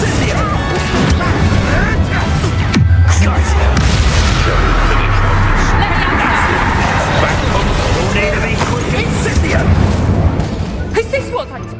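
A Bombarda spell blast in Hogwarts Legacy erupts in loud, sustained booming crashes and debris rumble that fill the whole stretch, with dense game battle noise throughout.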